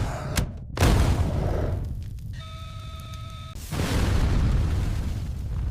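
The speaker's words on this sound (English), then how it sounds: "Two missiles fire off the launcher in quick succession." Two missiles launching from a launcher in quick succession, a deep roaring blast that rumbles on, briefly interrupted by a steady tonal hum, then a second heavy roar surging back loud and close.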